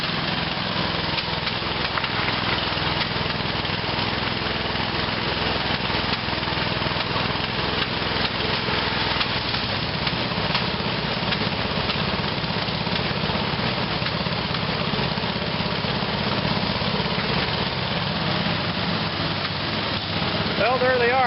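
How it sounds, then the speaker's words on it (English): Two lawn tractor engines run together, one of them backfiring, making a steady, loud, dense mechanical drone that never lets up; a voice may be faintly present underneath. "Both lawn tractors are running."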